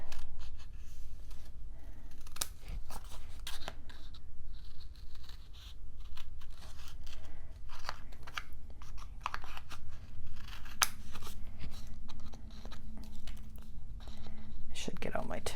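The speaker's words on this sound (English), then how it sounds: "And my scissors. And we're going to trim out the corners." Scissors snipping the corners of paper pieces for a handmade mini album at a crafting table, producing short, close crisp cuts and rustling paper, heard under soft, quiet talk.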